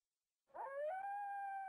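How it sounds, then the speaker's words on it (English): A dog howls in the SurvivalCraft video game, a single long, rising, steady wail that begins after a short silence and carries on clearly without talk. "Go away, dogs."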